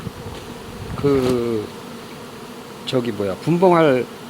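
Honeybees buzzing at a three-tier hive holding a queen isolation box, heard as two close, wavering bursts of droning with a quieter hum between them.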